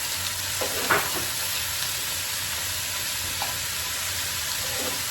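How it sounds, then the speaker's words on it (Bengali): Chopped onion frying with turmeric powder while being stirred: a loud, steady sizzle fills the clip, broken by a few brief scrapes of a spatula against the pan, close up and with no talking. "হলুদের গুঁড়া, পেঁয়াজ কুচি, এখন নেড়ে দেবো সুন্দর করে।"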